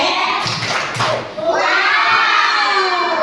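Classroom of children doing a spelled-out clapping cheer together, a burst of claps and shouting voices followed by a loud sustained group cheer, close and energetic.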